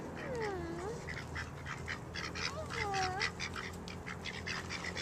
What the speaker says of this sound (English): Here comes more duckies.